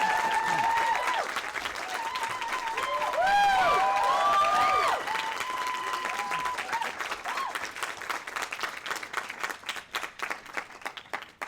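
Audience applause welcoming a student speaker at a 2025 graduation ceremony: sustained dense clapping from a large crowd, with cheering voices rising midway, then thinning into scattered claps toward the end.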